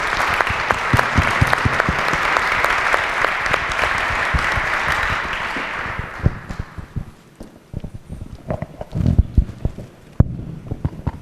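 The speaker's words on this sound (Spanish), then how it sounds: "Un aplauso para ellos." Audience applause closing a panel debate of influencers at a conference in Granada, a dense crowd clapping loudly for about six seconds, then thinning into scattered claps and room noise.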